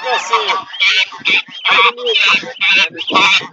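Geese honking repeatedly at an outdoor poultry and livestock fair in Campina Grande, Brazil, loud, close bursts in quick succession with fairground voices mixed in.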